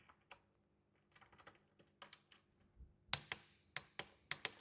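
A torque wrench clicks sharply as it tightens bicycle handlebar bolts during assembly of a boxed bike, a few soft taps early on giving way to a loud cluster of distinct clicks near the end, close by with no talk.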